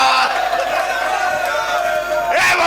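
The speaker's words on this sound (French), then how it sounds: "applaudissez encore pour vous" A crowd at a live comedy performance, the Bal Poussière du Rire 2022, roars with cheering, whoops and applause, loud and sustained throughout, with a brief surge near the end.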